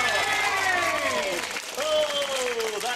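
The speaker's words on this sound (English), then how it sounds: "Give yourselves a big cheer." Studio audience at a children's TV show cheers and applauds in a broad crowd wash, while a voice with sliding, sing-song tones carries over the top.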